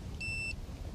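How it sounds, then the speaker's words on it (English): A Trimble R4s LE GNSS receiver gives a single short, clear electronic beep as its Bluetooth connection to a TDC600 handheld is confirmed, heard alone over faint background hum. "And that beep means it's connected."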